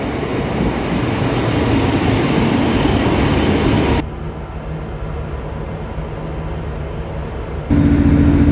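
A train at Newton Abbot station rumbles loudly and steadily nearby, dropping to a quieter hum midway before swelling again at the end.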